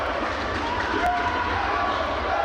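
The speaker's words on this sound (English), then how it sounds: "There's a packed crowd on hand for this rivalry matchup on a Wednesday night." A packed basketball crowd fills a fieldhouse at a college rivalry game with a constant, dense murmur of many voices. Faint cheers and footsteps run under it, and there are no clear individual shouts.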